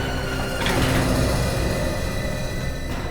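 A lift door slides open with a close, scraping mechanical rumble and a short metallic clatter near the start, then a continuous grinding slide that fades slightly toward the end.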